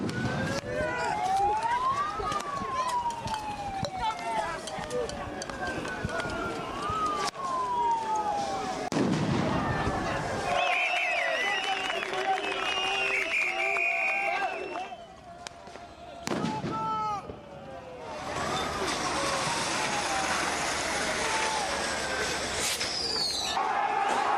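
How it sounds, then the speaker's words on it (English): Police firing tear gas at a Yellow Vest protest in Paris in 2018, repeated sharp launcher pops and bangs amid wailing sirens and a constant crowd roar, with a reporter speaking throughout. "tear gas has been fired by the police"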